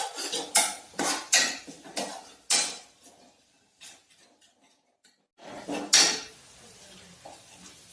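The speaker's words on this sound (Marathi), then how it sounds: "आता मिक्सर मध्ये बारीक केलेले हे वाटण आपल्याला छान परतून घ्यायचं आहे" Mixer-ground masala paste being sautéed in a pan, heard as a series of loud metallic scrapes and clanks of a spoon against the pan, a quiet gap, then another burst of scraping.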